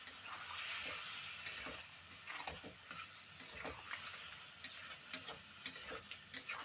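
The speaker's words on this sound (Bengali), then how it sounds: "এবারে সামান্য একটু জল দিয়ে দিচ্ছি মশলাটা কষানোর জন্য, না হয় পুড়ে যাবে" Masala paste sizzling in a pan as a little water is added while cooking a Bengali fish curry with prawns and potato, a steady close frying hiss broken by scattered ticks and scrapes of stirring.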